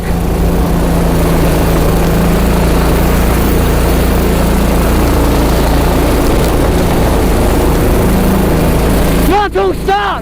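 A go-kart engine with a stuck, broken throttle revs loudly and continuously in a buzzing drone at a raceway, close and unbroken before a brief break at the end.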